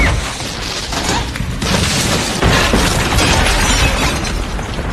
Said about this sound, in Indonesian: tak lama kemudian sebuah rudal menghantam rumahnya.